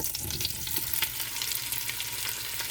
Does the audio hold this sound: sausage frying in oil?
yes